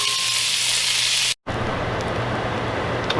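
Pork country ribs browning in a hot pot, a loud, dense close sizzle cut by a brief moment of silence before the crackling frying hiss resumes steadily.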